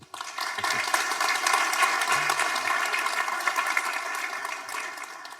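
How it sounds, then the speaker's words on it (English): Audience applause at a university deep learning lecture, a dense steady clapping that starts abruptly and holds loud for about five seconds before thinning slightly at the end. "let's give a short round of applause to welcome Doug and Nico and let them take it away."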